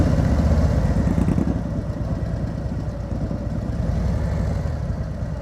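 Motorcycle engine at low speed during slow riding practice, a close, steady low rumble with a rapid throbbing pulse, easing slightly as the clutch is let out, no talk.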